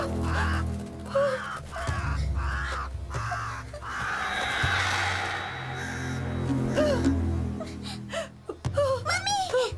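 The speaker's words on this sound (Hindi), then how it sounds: "बस एक कौवा है" A crow caws several times in an open outdoor setting, loud harsh calls spaced through the scene, mixed with gasps, whimpers and people talking in a dubbed South Indian horror film.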